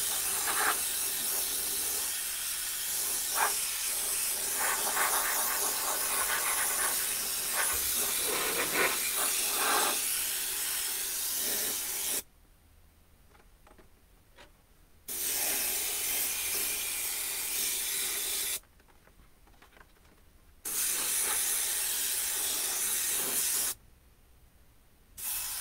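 An airbrush sprays paint onto a 1/10 scale Tamiya RC car body shell. It gives a close, steady hiss in long bursts, the first lasting about twelve seconds, followed by shorter sprays split by quiet pauses.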